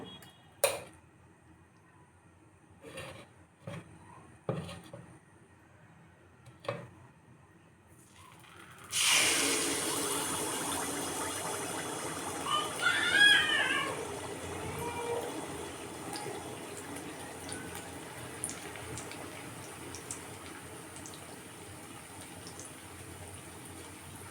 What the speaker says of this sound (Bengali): আমি এবার তেলে পিঠেটা তালে ভাজবো